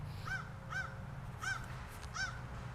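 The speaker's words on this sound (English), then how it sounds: "There's a crow above me." A crow caws four times overhead at a steady, unhurried pace, each call harsh and clear over faint outdoor background noise.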